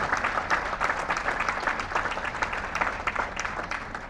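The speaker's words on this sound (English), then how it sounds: "Now, how about a round of applause for Vice President Vicki Ginger." A graduating crowd at an auctioneering college gives a room-filling round of dense, continuous applause that holds at an even level throughout.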